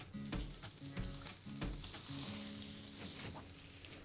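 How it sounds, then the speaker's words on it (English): Scallops sear on a hot grill bar for a seafood risotto, a close continuous sizzle and crackle with a few low thumps and a tonal hum underneath, no voices. "that looks like the perfect place to one side sear our scallop"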